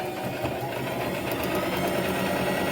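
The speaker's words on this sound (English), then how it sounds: "Do a stitch or 2 and back stitch." A sewing machine runs continuously as it stitches and back stitches fabric triangles together along the long side, a steady close mechanical whir with a rapid buzzing rhythm and no talking.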